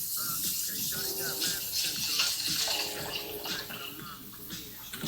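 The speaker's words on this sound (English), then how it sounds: "So let's get our rice washed. We got some cold water" Cold tap water runs into a bowl of rice being washed by hand, a continuous close splashing and swirling with grains stirred about; no talking.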